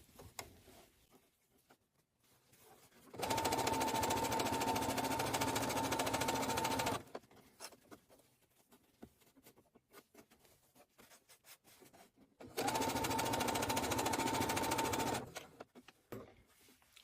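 A sewing machine stitches fabric while making bias tape, with two loud steady runs of rapid whirring stitching of about three to four seconds each, separated by quiet stretches of faint handling noise.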